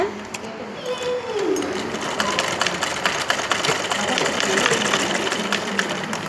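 A sewing machine runs steadily while stitching a cross piece onto a garment neckline, a close, continuous mechanical whir with rapid needle ticking, and a voice speaks briefly near the start.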